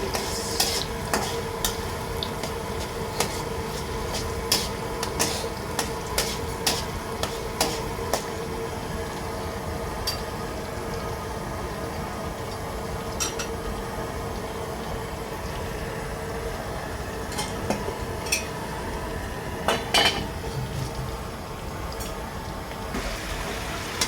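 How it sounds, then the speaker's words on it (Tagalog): Chicken feet being stirred in a pan, a steady sizzle broken by repeated sharp clinks and scrapes of the spoon against the pan at an uneven rhythm, close up and with no talking. "halu-haluin natin guys natin, pinalambot na paa"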